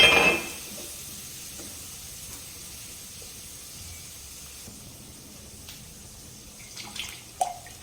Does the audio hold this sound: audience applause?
no